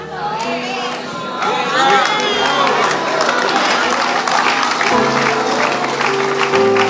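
Congregation applauding during a Spanish-language sermon on the Book of Ezekiel, a broad steady wash of clapping with cheering and crowd voices mixed in, sustained and fairly loud throughout.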